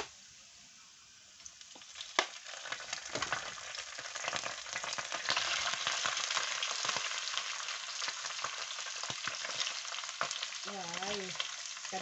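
Pork with bean sprouts, glass noodles, carrot and spring onion stir-fries as spring roll filling, a loud, steady sizzle building after a quieter start, with occasional stirring scrapes and pops close by.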